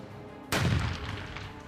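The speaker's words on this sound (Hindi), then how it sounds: "बमों के धमाके और मशीन गन से निकलने वाली हर गोली" A single heavy blast during fighting in Iraq bursts in sharply after a quiet moment, then rolls out into a long, rumbling decay.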